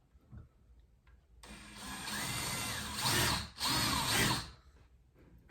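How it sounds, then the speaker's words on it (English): A handheld power drill bores into a homemade Easter candle pillar. The motor starts after a quiet pause and whines steadily at close range, dips briefly, then resumes before stopping, with no talking. "So we can still drill down a bit"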